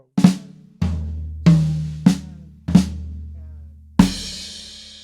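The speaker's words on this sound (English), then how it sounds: "I'm playing a left flam between the floor tom and the snare drum." Drum fill of left-handed flamacues moving between floor tom and snare drum, six sharp loud strikes spaced about a second apart, each ringing out briefly, played alone with no talking.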